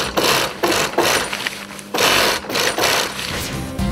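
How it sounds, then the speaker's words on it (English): A sewing machine stitching material together, its loud rapid mechanical whirring in several bursts separated by short pauses, close up and alone. "Did you like the sound of the sewing machine when it sewed all the material together?"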